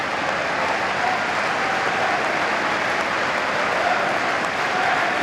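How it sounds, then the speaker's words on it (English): Steady applause from a football crowd at Oxford United's ground as a substituted Oxford United player leaves the pitch during a cup tie against Newcastle United, a broad continuous clapping wash at even loudness throughout. "A nice hand from the crowd."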